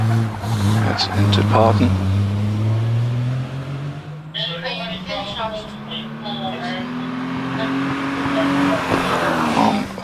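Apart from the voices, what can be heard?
2.5 litre Triumph Special racing car at hillclimb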